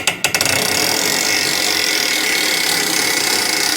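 A winch on a new Burge bale unroller for cattle farming is wound backwards with a sharp clank or two at the start, then a steady loud mechanical grinding whir that runs on close by without talk.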